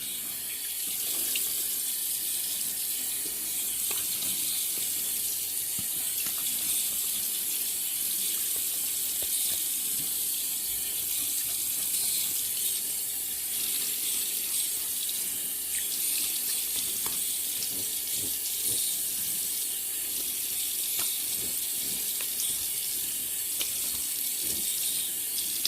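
Tap water runs steadily into a sink while the face is wetted before shaving, a continuous close splashing rush with no pauses.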